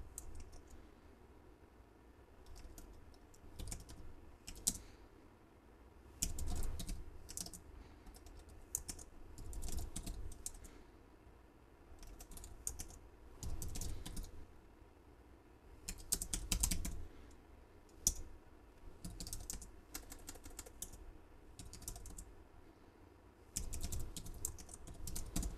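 Steady bursts of typing on a computer keyboard while writing an SQL JOIN query, close clicks coming in clustered runs with short pauses between them, no voices.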